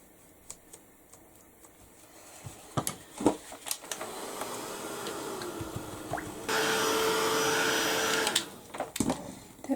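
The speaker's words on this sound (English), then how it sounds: "I'm going to give it a quick blast with the heat gun" Heat gun blowing hot air over a mixed media steampunk canvas, a steady broadband hiss that starts partway through and runs for a couple of seconds, mixed with scattered clicks and handling taps close by.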